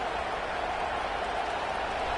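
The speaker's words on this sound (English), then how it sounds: "This crowd bringing the energy and noise early" Crowd at a college football game early in the match, a dense, even roar of many voices that holds steady for a couple of seconds.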